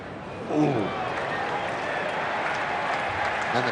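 A baseball stadium crowd cheers and claps at a Yankees away game against the Astros, a broad roar that swells and holds, with a commentator talking over it.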